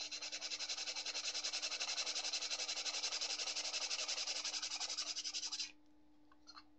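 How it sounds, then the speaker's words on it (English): Sandpaper scrubbed by hand against tin: a steady, close, rapid back-and-forth rasping that keeps up for about five and a half seconds and then stops, with no voices. "maybe with like some sandpaper or whatever, like I just did real quick here"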